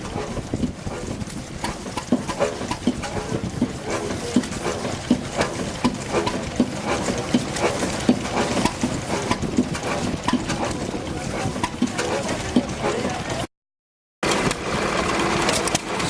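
A 1939 Watson Hornsby 5XR stationary engine runs at an outdoor engine rally, giving a steady, rapid mechanical chugging that holds throughout with a brief dropout near the end.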